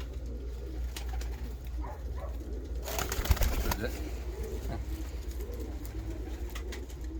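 A female Uralski pigeon coos among other birds, low repeated burbling under brief spoken remarks and a short laugh, with a louder rustle and clatter midway.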